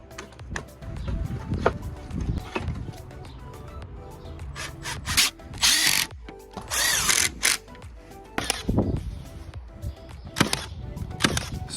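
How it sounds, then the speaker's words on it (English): Power drill driving screws into 2x4 wooden fence framing, several whirring bursts of varying length with pauses between, close and loud, mixed with knocks and handling noise. "we're gonna secure it with a screw here, one in the bottom and on the other side as well"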